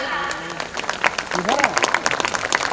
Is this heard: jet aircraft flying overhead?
no